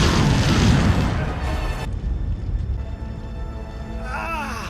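A powerful explosion in an animated Super Mario Bros. film erupts as a loud, dense rumbling blast that fades into a lingering roar with faint tonal effects afterward.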